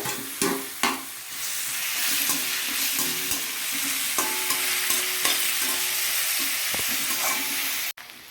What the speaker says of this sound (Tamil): இதில் திருவண மாங்காவை போட்டு வதக்கிக்கலாங்க